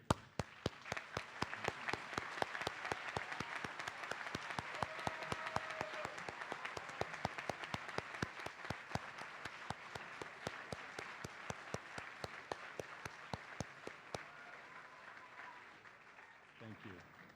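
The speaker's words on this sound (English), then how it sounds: "I now invite all alumni of the schools of JTS who have joined us today to please rise and accept the applause of those gathered here" Commencement crowd applauding alumni as they rise, a long steady wash of clapping with sharp individual claps standing out throughout, fading slightly toward the end.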